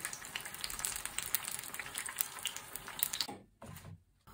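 Battered banana fries in oil that crackles and sizzles busily with fine popping, then the bubbling thins out near the end with a couple of soft clunks.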